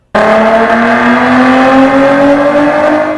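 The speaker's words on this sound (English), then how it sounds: "the result is a pure muscle car roar" A muscle car fitted with a Borla performance exhaust kicks in abruptly and holds a loud, close, sustained roar for about three seconds, its deep droning pitch climbing slightly as it goes.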